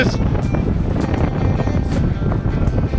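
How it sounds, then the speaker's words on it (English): Strong wind gusting on top of an old wooden lookout tower, a loud steady roar with buffeting rushes battering the microphone throughout. "just got really windy"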